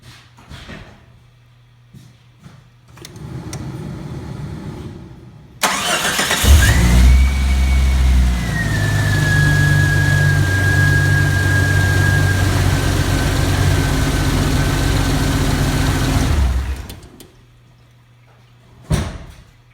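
Jeep Cherokee after a tune-up: a door sound, then the engine cranks and catches with a loud start, settling into a steady mid-pitched idle with a whine for about ten seconds before shutting off, close by.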